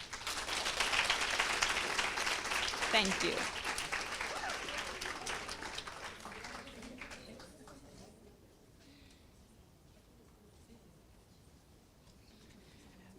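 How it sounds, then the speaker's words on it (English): An audience at a fourth-year social development professions pledge ceremony gives a final round of applause. Loud, dense clapping swells for several seconds, then fades to scattered claps and quiet room tone, with a voice speaking briefly. "ask you to take a last applause"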